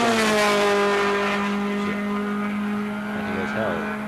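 A 1980 SCCA ASR race car drives hard down a long back straightaway. A loud, steady engine drone holds for several seconds, its pitch dipping and shifting as the car runs on.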